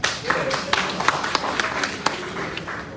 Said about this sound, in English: I think Salon people will clap small now.